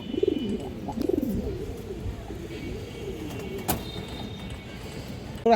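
Pigeons coo close by in low, rolling phrases that repeat one after another, with a faint rumble and brief clatter in the background.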